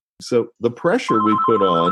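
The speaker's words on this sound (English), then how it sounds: "Sorry about that phone ringing." A telephone rings with a steady electronic tone that starts partway through and continues under someone talking close to the microphone.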